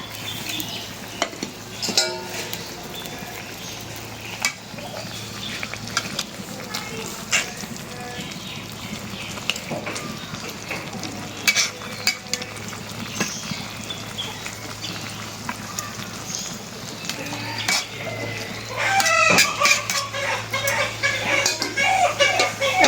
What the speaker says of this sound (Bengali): এখন টমেটোগুলি দিয়ে দিব।